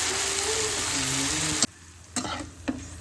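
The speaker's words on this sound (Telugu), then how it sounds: "సాల్ట్ వేసేసుకొని బాగా వేయించేసేసుకోండి" Tomato puree for a paneer curry sizzles loudly in a hot pan while being stirred, then the hiss drops away and a few scraping stirs follow.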